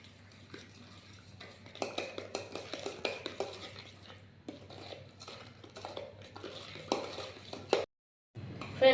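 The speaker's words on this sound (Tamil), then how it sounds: "நம்ம சர்க்கரையை சேர்த்து நல்லா கலந்து விட்டுக்கிட்டோம்" Egg and sugar mixture being stirred in a bowl, with a steady run of scraping clinks of a utensil against the bowl, close and fairly loud, breaking off briefly near the end.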